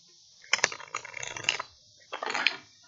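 Close, soft clicking and riffling of tarot cards being shuffled, two short bursts of rapid flicks separated by a brief pause, in a quiet room.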